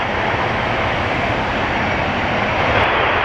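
PIA Boeing 777 jet taking off at Toronto Pearson, a loud, steady broadband engine roar filling the whole moment close by with no voices.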